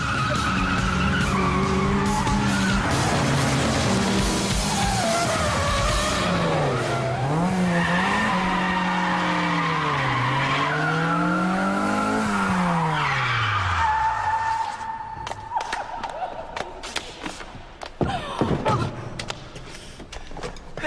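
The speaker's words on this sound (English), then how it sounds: "It was your first drift." A car drifts through a turn with long, loud tire squeal and skidding, the engine note rising and falling as the tires slide, then dies down into scattered thumps and quieter road noise.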